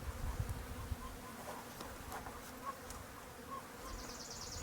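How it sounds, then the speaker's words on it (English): Bees buzz steadily at close range, a dense droning hum with a few louder passes near the start. "Got some bees."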